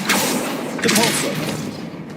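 A video game spell effect fires with a heavy thudding boom and a burst of noise, loud and close, with a voice briefly audible in the middle.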